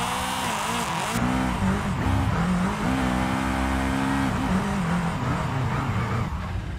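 Brian's Eclipse in Forza Horizon spins in tight donuts, its engine revving in rising and falling sweeps while tires squeal steadily, loud and close throughout.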